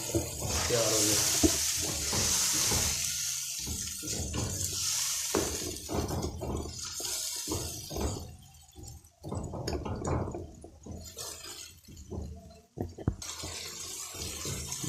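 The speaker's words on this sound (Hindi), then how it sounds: "मसाले को अच्छी तरह भून लेना है ताकि हर चीज़ जो है वो मिक्स हो जाए अच्छी तरह" Vegetable masala sizzles and is stirred in a pan for a mixed vegetable dish, continuous frying hiss with repeated scraping strokes of a spoon, close and fairly loud, with little or no talk.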